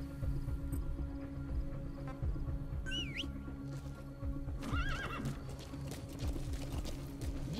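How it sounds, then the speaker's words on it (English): Two short whinnying neighs from a horse in Metal Gear Solid 5: The Phantom Pain ring out over a steady, busy background of game ambience, the second louder and more wavering. "Alright, let's get the horse here."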